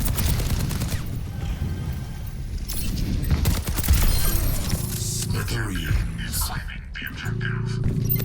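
Soldier 76 fires rapid bursts in a Grandmaster-level Overwatch match, with dense repeated shots and game effects under continuous spoken commentary from the player.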